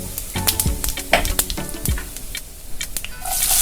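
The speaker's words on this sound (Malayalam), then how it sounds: "അതിലേക്ക് 1 ടീസ്പൂൺ ചെറിയ ജീരകം ചേർത്ത് കൊടുക്കുക." Cumin seeds sizzle and crackle in hot mustard oil in a pan for dal fry, loud and close, with a steady frying hiss and scattered pops.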